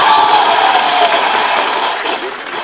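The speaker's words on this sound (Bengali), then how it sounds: "আমাদের ক্ষোভের জন্য একটা জোরে হাততালি" Loud, sustained applause from a big crowd at a talk about revolutionary women, a thick wash of clapping that fades a little toward the close.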